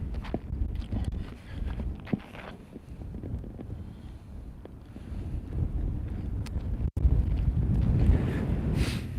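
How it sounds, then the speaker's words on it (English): Gusty wind buffets the microphone outdoors, a steady low rumble that swells and fades throughout, growing stronger near the end, with faint scuffing footsteps mixed in. "It's getting a little bit windy here."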